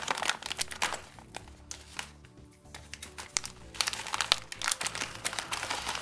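Plastic packaging bag from an AliExpress parcel for a lock being handled, crackling and crinkling in close bursts with a quieter pause in the middle, then more rustling.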